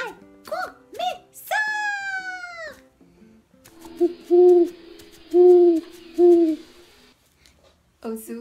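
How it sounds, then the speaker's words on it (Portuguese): Owl hooting in a children's storytelling intro, with several soft, evenly spaced hoots in a row, preceded by cartoonish meow-like calls and faint background music. "Ouço o canto da coruja te chamando pra sentar."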